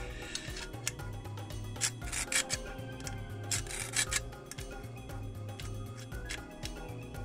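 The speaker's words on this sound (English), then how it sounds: "Just use my sharpening tool on that instead of the grinder." A hand sharpening tool rasps back and forth along the steel blade of a Hayter Harrier 48 lawn mower, a series of close, uneven scraping strokes with brief pauses between them.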